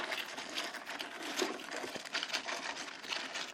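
Freshly deep-fried crispy soy-glazed chicken, about a kilogram, being handled up close, giving a steady dense crackle and rustle of crunchy coating with small taps, moderately quiet throughout.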